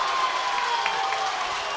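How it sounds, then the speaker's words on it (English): Spectators at a high school regional wrestling championship clap and cheer in a sustained, bright wash of applause and shouting that holds steady at moderate loudness throughout. "This crowd is going crazy."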